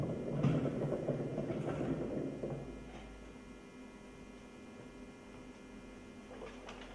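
A chain motor hoist lifting a d&b V/Y loudspeaker rigging frame gives a low mechanical hum and rumble, strongest over the first couple of seconds before settling into a quieter, steady drone.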